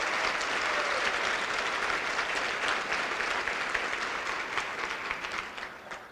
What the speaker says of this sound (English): Stand up and let's give her a round of applause.